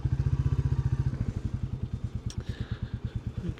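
A Royal Enfield Bullet 350 single-cylinder motorcycle thumps along in a steady, rapid pulsing beat, close and clear, the exhaust rhythm loosening slightly as the ride continues.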